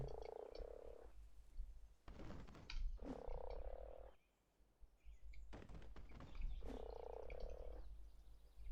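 A frog croaking in the game Ark Survival Evolved, repeated rough, buzzing croaks in bursts about every two seconds, close and clear over a low background hum.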